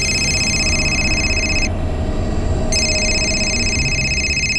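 A telephone rings in a crime drama scene as a call is placed to a friend in London. The electronic trill is loud and sounds in two bursts separated by a short pause, over a steady background hum.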